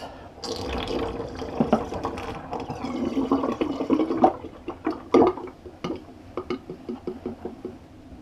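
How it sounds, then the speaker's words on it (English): Water drains from a bathroom sink after a shave, a gurgling wash of flow with clicks and splashes that taper into sporadic drips and knocks near the basin. "Just going to drain my sink of the whiskers"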